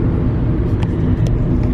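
A car's steady, heavy road rumble fills the scene somewhere in Cyprus, loud and close throughout with a couple of faint higher ticks, and no one speaks.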